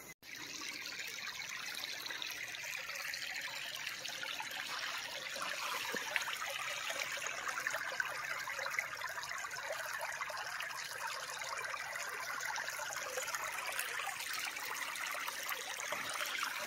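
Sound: creek water flowing

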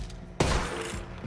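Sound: gunshot and reload in the video game Borderlands 3

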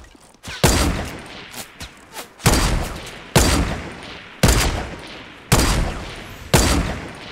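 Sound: gunfire from the video game Fortnite

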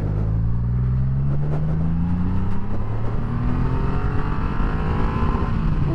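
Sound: Triumph Rocket 3 GT motorcycle exhaust popping

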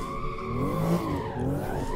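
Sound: squeaking brakes of a BMW M2 in Assetto Corsa video game

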